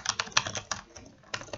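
Keys clacking on a computer keyboard, a quick uneven burst of close, crisp taps with short pauses between strokes and no talk.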